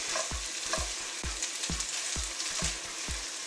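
Potato gnocchi tossed in a sizzling pan with Parmesan cheese and sage butter, a steady frying hiss punctuated by about eight regular thumps as the pan is jerked back and forth.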